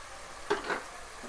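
Tomatoes and onions sautéing in a pan for a Madurai-style spicy chicken ketti kulambu, a faint sizzle with a quick stir scraping through it.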